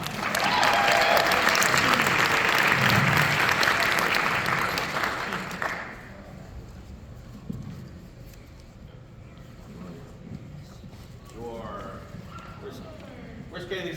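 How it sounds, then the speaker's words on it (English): Crowd at a Groundhog Day festival gives a young girl named Kaylee a burst of loud clapping that lasts about six seconds, then fades into quieter room noise with a voice speaking afterward. "Let's give Kaylee a round of applause."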